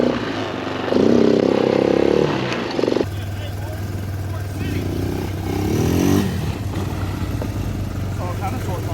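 A GY6 scooter engine, a small Chinese 150 or 250 cc, revs in two rising bursts over a steady low idle, fairly close and loud, with a voice talking in between.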